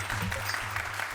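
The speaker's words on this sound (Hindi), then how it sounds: "भाई तालियां।" A brief burst of clapping from a small group, steady and close, over a faint low hum.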